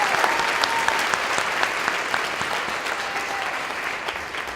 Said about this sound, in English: Let's stop and give these 3 young ladies a round of applause.